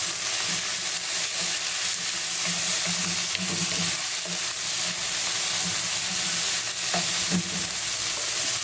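Chopped onions sizzle in hot oil in a pan while cooking adobong galonggong. A steady close frying hiss with a few stirring scrapes continues throughout, and nobody talks.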